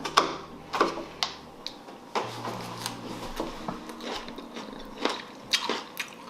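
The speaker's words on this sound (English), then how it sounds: "I'm gonna try my salad" Someone bites into and chews a salad of homegrown vegetables dressed with oil and salt, with a series of close, crisp crunches and soft chewing sounds spread unevenly over several seconds.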